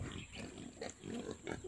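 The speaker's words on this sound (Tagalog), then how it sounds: "mga baboy lang na iwan na nandito" Pigs left on a rural farm in the province grunt and snort in short, faint bursts, several close rough grunts over a quiet background.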